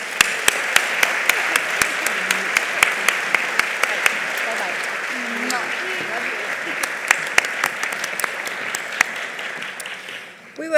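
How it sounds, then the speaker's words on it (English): A robust round of applause from an audience at a live philanthropy awards event, many hands clapping in a dense steady wash with sharp individual claps, tapering off near the end. "please join me in a robust round of applause for Maria"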